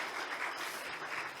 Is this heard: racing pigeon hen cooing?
no